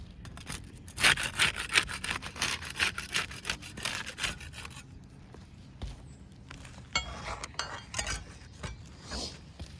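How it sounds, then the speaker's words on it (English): A putty knife scrapes and pries under asphalt roof shingles to break their seal, making repeated gritty rasping strokes. The scraping is dense and loud at first, then turns sparser with scattered taps and scuffs, close by and with no talk. "We'll use the putty knife to unseal the top shingle."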